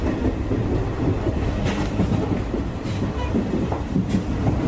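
A passenger train pulls into Santa Apolonia station, the main railway terminus in Lisbon, with a steady close rumble of rolling wheels and clattering carriages running the whole time, and no talk over it.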